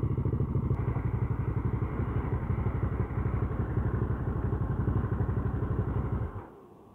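An Aprilia Caponord 1200 motorcycle engine runs steadily up close on a test ride with a dense, even drone, then cuts off abruptly near the end.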